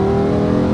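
Lamborghini Huracan LP580-2 engine revving hard and steadily through quick dual-clutch gear changes, loud and close for a short burst.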